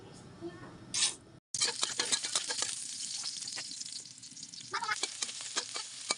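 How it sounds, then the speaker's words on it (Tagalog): Sautéing ingredients for a string bean dish in a hot pan: a steady crackling sizzle with stirring scrapes runs throughout, briefly cut off once near the start, while a person talks over it. "Okay guys, igigisa na natin yung ating"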